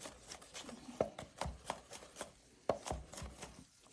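Knife chopping jalapeños on a cutting board for fresh salsa: a series of sharp, close taps on the board at an irregular rhythm, with a few louder strikes standing out, heard alone.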